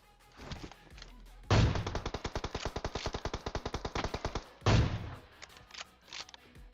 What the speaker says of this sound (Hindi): मैं आगे गोली चलाता हूँ और सीधा सर पे गोली लगती है